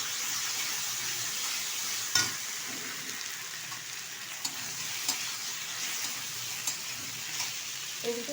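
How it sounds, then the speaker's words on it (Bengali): Boiled, peeled taro root is stirred in oil in a pan, producing a soft continuous sizzle with light scraping and a few sharp utensil taps against the pan. "ভালোভাবে নেড়ে চেড়ে নেবো তেলের সাথে"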